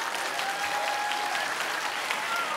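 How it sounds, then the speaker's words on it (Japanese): Audience at a Japanese fan event for actors Park Seo-joon and Won Ji-an breaks into sustained applause, a loud, even roar of many hands filling the whole stretch, with a faint whistle-like tone above it. "改めまして拍手をお願いいたします。"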